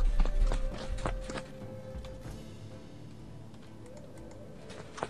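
A horse in the video game Expeditions Conquistador runs with a rhythmic clip-clop of hooves, louder at the start and then steadier and fainter under background music, with no speech.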